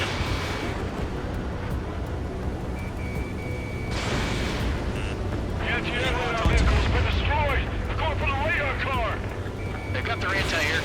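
Anti-aircraft guns and explosions rumble through a battle in Ace Combat 7, a dense, continuous roar of fire and blasts, with voices and radio chatter talking over much of it.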